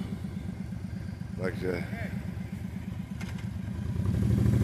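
Motorcycles idle at a gathering for a church vehicle blessing, a steady low engine rumble that swells toward the end as if revving, heard under continuous nearby talking.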